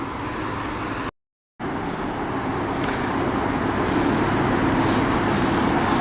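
Road traffic hums steadily alongside a trail by a single-lane stretch with construction nearby, a continuous broad roar of passing vehicles, briefly cut to silence once, then resuming evenly.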